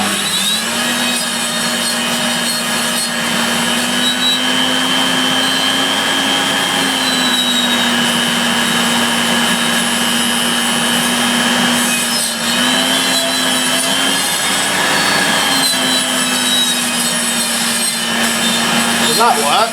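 Electrolux Z2060 Electronic vacuum cleaner, needing refurbishment, running continuously with a loud, steady motor whine and rough airflow rush, close by and unbroken throughout.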